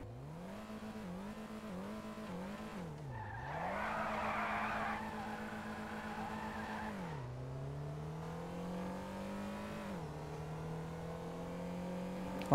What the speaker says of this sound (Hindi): चलो अब हम इस कार का साउंड और इस कार की टॉप स्पीड को टेस्ट करते हैं।